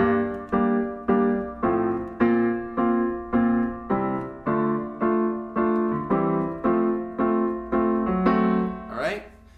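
Piano chords struck in a steady repeating pattern, each chord ringing and decaying before the next, ending with a quick upward run.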